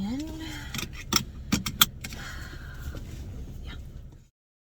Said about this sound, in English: let's go park this truck